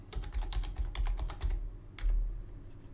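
Keys clatter on a computer keyboard as a password is typed, with a quick burst of clicks for about a second and a half, a pause, then a few more keystrokes at close range.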